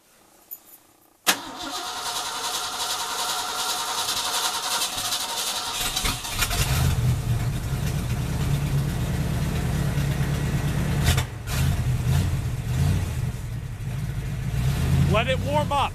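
A Ford F250 truck, unstarted for about a year, cranks and catches on the first try after a rebuilt transmission install, then settles into a steady, rumbling idle, with people talking over the running engine.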